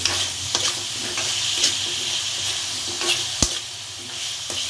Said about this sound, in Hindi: अब आलू डाल रही हूँ। गैस मीडियम कर दी मैंने।